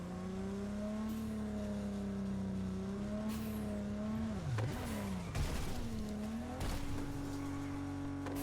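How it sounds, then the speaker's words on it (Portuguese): Engine of a car driven in the video game Cyberpunk 2077 hums steadily, then revs and shifts pitch with a sharp dip midway and a brief tire squeal, loud and close throughout with no talk. "Vou dar um rolê de carro agora."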